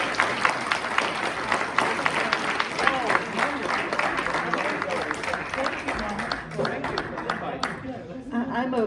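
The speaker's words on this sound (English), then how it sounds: "give a round of applause for her time" A round of applause from a crowd at a general meeting, with steady clapping sustained for several seconds and talk mixed in under it.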